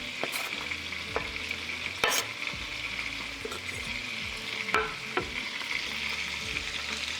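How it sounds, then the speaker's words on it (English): Diced bacon fries in a frying pan with a steady close sizzle, occasional sharper crackles and pops, and the scrape of stirring scattered through, with no talking. "I'm getting all this diced bacon in the frying pan."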